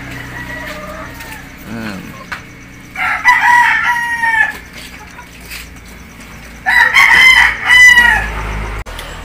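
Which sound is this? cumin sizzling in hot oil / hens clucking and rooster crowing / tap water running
hens clucking and rooster crowing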